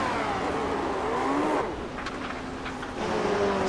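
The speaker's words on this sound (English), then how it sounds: "Slight over-rev of the engine tells the story." Race car engine in the iRacing sim game, droning steadily at high revs with a slight flare and pitch rise on a clutch-in downshift, then settling; close and continuous with no talk.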